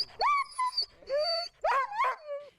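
Sled dogs whimper and yip in a run of high, wavering cries, several short rising and falling whines in quick succession, close and fairly loud with brief pauses between.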